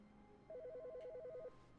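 In The Stanley Parable, a telephone rings in one short warbling burst of about a second, fairly clear over a quiet background.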